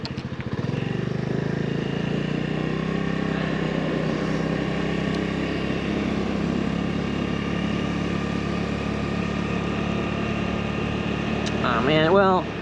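A Honda Navi motorbike ridden around the lower part of a park, its small engine giving a steady, close droning hum throughout with little change in pitch, plus a brief chirping sound near the end.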